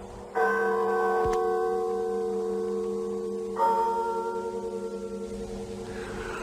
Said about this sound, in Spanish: el doble de las campanas